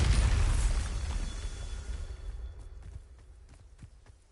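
A Bombarda spell detonates in a video game with a loud close blast that rumbles and fades away over a few seconds, followed by faint light impacts.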